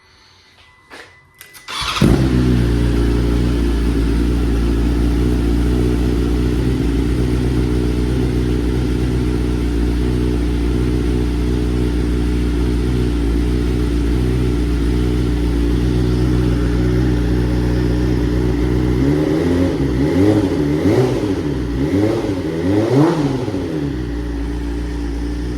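A BMW M1000R motorcycle on its stock exhaust fires up and settles into a loud, steady idle nearby, then near the end gets several sharp revs that rise and fall in quick succession.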